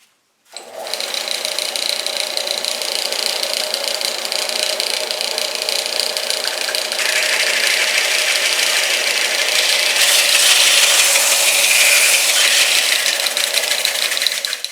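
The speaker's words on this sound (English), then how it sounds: "So I'll do that with the belt sander." A belt sander starts with a sharp onset and runs smoothing plywood, a loud steady motor whine with gritty abrasive hiss that grows brighter and rougher partway through, continuous and alone.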